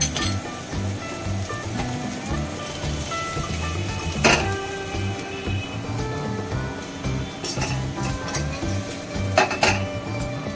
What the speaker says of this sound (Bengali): এবার আমি প্লেটে নামিয়ে নেব